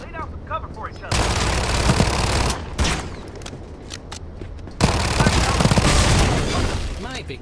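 Heavy gunfire in a shooter video game, with loud bursts of shotgun blasts and rapid shots coming in two long dense stretches, broken by a few sharp single shots and some quieter moments between them.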